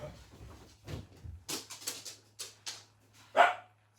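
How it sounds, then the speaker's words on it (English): A dog indoors, apparently set off by the postman at the door, barks in a run of sharp yaps and whimpers at moderate distance, ending in one louder bark, with no talking over it. "The dog's is barking"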